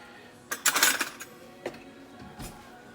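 Fork clinks against a bowl while mixing ingredients, a quick cluster of bright metallic scrapes and taps followed by a couple of isolated knocks, close and fairly quiet.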